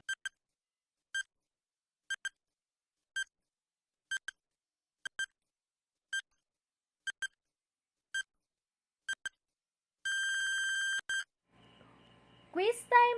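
A quiz countdown timer beeps out ten seconds, short electronic double beeps repeating about once per second in near-silence, then a sustained final buzzer tone, followed by faint sounds at the end.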